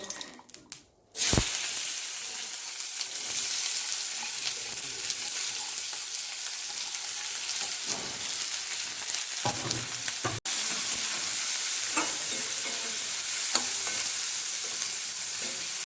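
Green chillies hit a hot pan of oil while cooking a cauliflower mash, starting with a short burst of handling noise, then a continuous loud sizzle broken by a few scraping stirs and brief clatters.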